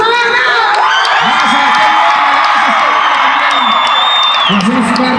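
A large festival crowd at a radio celebration cheers, whoops and applauds loudly and continuously, high shouts and whistles riding over a dense roar.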